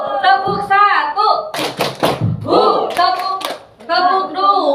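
A group of teachers claps a short rhythmic hand-clap pattern, a quick cluster of sharp claps in the middle, with someone talking before and after and over the claps.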